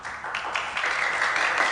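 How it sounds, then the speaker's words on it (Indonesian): A class of students applauds in a film scene, a soft, even wash of clapping that holds steady and swells slightly toward the end. "nggak usah pakai tepuk tangan"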